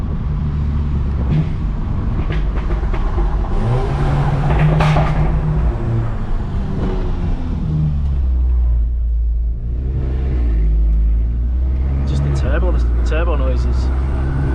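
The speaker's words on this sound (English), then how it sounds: "Turbo noises." Audi S3 8V with a stage 3 turbo upgrade making 530 bhp, driven as a daily: steady cabin-side engine drone and rumble with turbo whooshes and flutters rising over it, with talk over parts of it.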